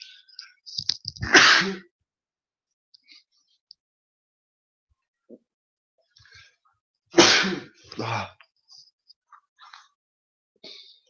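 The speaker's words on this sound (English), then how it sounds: "I'm going to feel like I'm going to sneeze." Two loud, sharp sneezes several seconds apart, each with a short breathy follow-up, separated by near silence and small shuffling noises.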